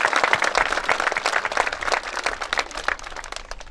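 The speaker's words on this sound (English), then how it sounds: "Let's give them applause," Audience applause honoring a list of named team members, a steady patter of many hands clapping at moderate loudness throughout.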